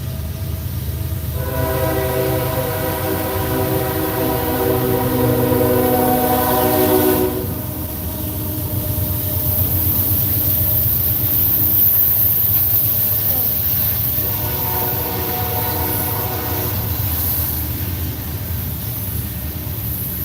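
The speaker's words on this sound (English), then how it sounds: "Oh Lord, the train." A loud train rumbles past with a long, blaring horn, followed after a pause by a second shorter horn blast.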